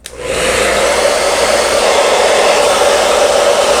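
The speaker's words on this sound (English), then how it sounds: "So on a low setting, not so bad. You can still hear me talk over the blow dryer." A hair dryer on its low setting switches on and runs steadily with a loud, even whooshing hum and airy hiss, close up and uninterrupted.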